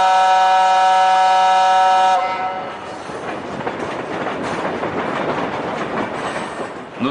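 A train rolls along its rails. A sustained horn-like tone opens the sound, then gives way to a steady broadband rumble and rattle of the moving cars, loud and continuous throughout.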